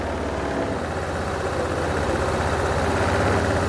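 Steady low engine idle after the engine has been refitted, rumbling continuously and close by with an even throb while the RPM is being adjusted, no voices over it.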